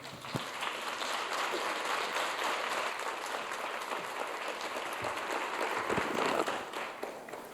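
An audience at a unity summit applauds a poet laureate in a sustained round of dense clapping that holds steady throughout and swells slightly near the end.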